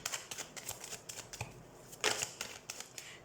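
Tarot cards are shuffled and drawn in quick, soft riffling bursts with light slaps and flicks, close and fairly quiet, with no talking.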